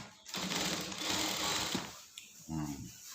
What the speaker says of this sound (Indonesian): Nah, ini saya jahit sambung ya.